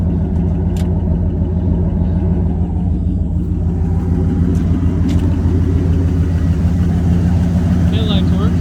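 An old auction dump truck with a stiff clutch and 175 on it idles steadily nearby after a jump-start, a deep continuous engine rumble with a thick low throb, running alone without pauses.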